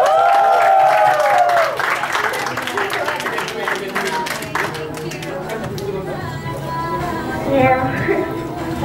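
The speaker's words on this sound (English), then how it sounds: "Come on, guys, a big clap for her." Audience at a fan celebration party for the group EvoL clapping steadily near the microphone, mixed with crowd chatter and a few cheers, with talking throughout.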